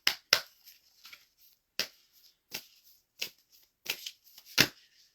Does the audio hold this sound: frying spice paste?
no